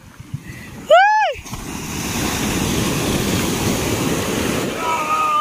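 Big ocean waves wash and churn around a boat at sea, a dense rushing surf close by. A short shout rises above the water near the start.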